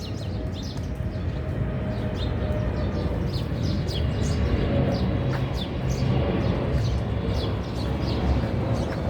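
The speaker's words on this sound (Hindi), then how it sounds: "यहाँ पर चिड़ियाएँ हैं, खूब सारी शोर मचा रही है" Many birds chirp and tweet busily over a steady low rumble of outdoor background noise, the calls overlapping and scattered throughout.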